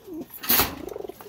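Pigeons of Chinese and Saki Teddy lines coo in a breeding loft, a close, soft throaty coo followed by a quick run of rhythmic pulsing notes, with a brief rustle in the middle.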